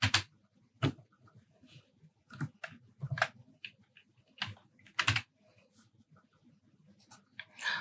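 Computer keyboard keys tapped while typing into an Excel spreadsheet, producing irregular bursts of crisp, close clicks separated by short pauses.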